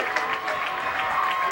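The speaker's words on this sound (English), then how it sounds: "to a nice round of applause" Steady crowd applause fills the stands at a 1995 middle school football game between Central and Chippewa in Port Huron, a continuous patter of clapping held at an even level throughout, with faint voices mixed into the noise.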